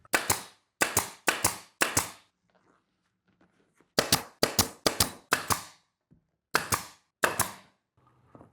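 Staple gun driving staples into a motorcycle seat cover on a Talaria Komodo, a burst of four sharp snaps, a pause, then five more and two final shots, close and loud with no talk.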